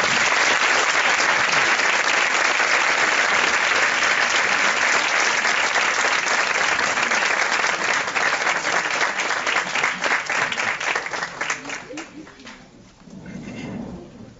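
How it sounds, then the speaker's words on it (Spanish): Sustained audience applause at a public commemorative event, dense clapping that fades out near the end as it dies down. "brindemos un fuerte aplauso al ingeniero Cuauhtémoc Cárdenas"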